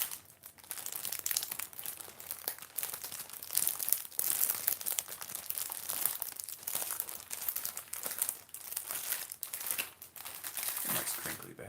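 Crinkly plastic skincare packaging bag handled up close, a dense stream of rustling, crackling crinkles running steadily throughout with no talk.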